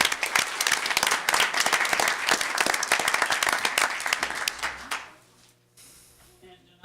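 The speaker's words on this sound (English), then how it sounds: "You can clap." An audience at a school board of education meeting breaks into dense, lively applause for middle school students, loud and sustained for about five seconds before fading abruptly, with voices mixed in beneath the clapping.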